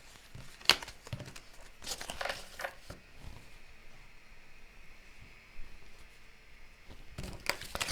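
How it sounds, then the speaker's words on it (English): Tarot cards are drawn and handled in close, crisp bursts of papery rustling, flicking and crinkling at irregular intervals, with quieter shuffling between them and no talking. "Let's draw your tarot cards and see what we are shown."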